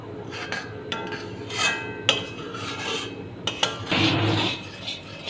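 A spoon stirs milk thickening in a pan for kulfi, making soft scraping and rubbing against the metal with occasional light clinks over a steady background hiss, close and without talk.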